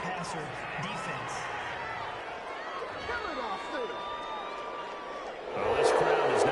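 A stadium crowd in a football video game reacts to a roughing-the-passer penalty, a broad, sustained murmur that swells into a louder roar near the end, with commentary talking over it.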